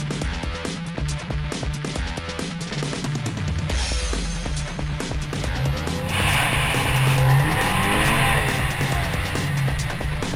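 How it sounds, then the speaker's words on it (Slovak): Two cars, one an Ampera running in electric mode, accelerate side by side up to 50 km/h, giving a steady loud roar of engines and tires with squealing rubber close by and no speech. "sme autá postavili vedľa seba a akcelerovali na 50 km za hodinu"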